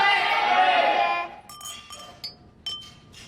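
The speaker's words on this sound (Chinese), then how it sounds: "大家干杯！" Glasses clink together in a toast at a social gathering, a few bright chimes with voices cheering at the start, then scattered lighter clinks.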